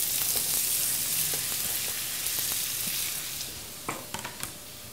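Onions going into wild boar frying in a pan for a hash, heard as a loud, dense sizzle that eases slightly, then a few crisp clinks and stirring knocks near the end.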